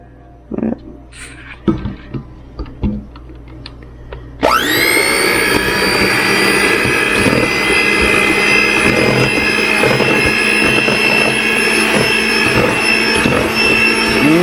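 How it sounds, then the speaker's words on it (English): An electric mixer starts up after scattered kitchen clatter and a few brief sounds, then runs loud and steady with a sustained whirring hum while mixing cookie dough. "we're going to mix that together"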